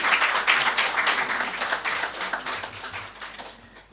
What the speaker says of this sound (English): Shall we please give Mr. President another round of applause?